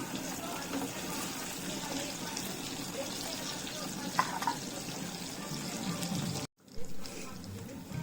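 Fish pieces frying in hot oil, a steady crackling sizzle close by with some stirring and a brief dropout near the end.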